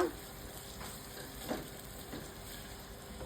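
Onions fry in oil in a clay pot for a bommidi fish curry, giving a steady soft sizzle with occasional stirring scrapes, close and fairly quiet, with no speech.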